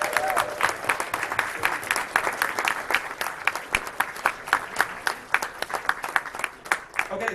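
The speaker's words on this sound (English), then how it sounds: "Please give them one more round of applause." Audience applause fills a convention room at a closing ceremony, a dense, steady round of clapping from many hands that carries on without pause for several seconds.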